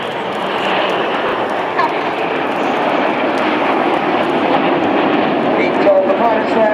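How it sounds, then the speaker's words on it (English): Nine Red Arrows jets performing the whirlwind manoeuvre at the 2015 Sunderland Airshow, a loud, steady roar of jet engines over the crowd, with a commentator talking throughout. "The key to the whirlwind is getting all 9 jets doing it at exactly the same time."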